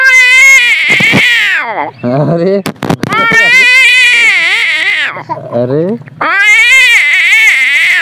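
A voice imitates a frog screaming as a snake seizes it, loud close wailing cries that rise and fall in several strained bursts separated by short gaps.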